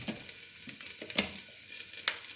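Bacon lardons cook gently in a dry pan with no oil, a soft sizzle broken by a few sharp pops and crackles, close by and without talk.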